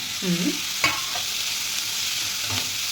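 Spices roasting with coriander in a pan for a Hassan-style snake gourd palya, a soft sizzle beneath a few scrapes and knocks of a stirring spoon, with a brief voice-like sound early on.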